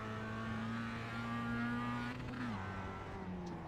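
A Mazda MX-5 engine in the iRacing sim at Tsukuba holds a steady, close engine tone, then the pitch drops sharply near the end as the revs change.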